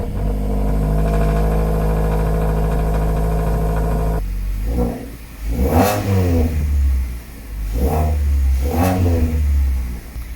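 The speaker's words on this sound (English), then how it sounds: "So let's go and start the car up." A modified car engine, already warm, turns over and fires, then idles with a deep, loud rumble broken by several sharp revs that rise and fall, close by with no talking.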